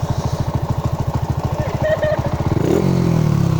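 A Raider 150 Fi motorcycle engine fitted with an ECU runs up close with a loud, steady pulsing putter, shifting near the end into a smoother, higher drone.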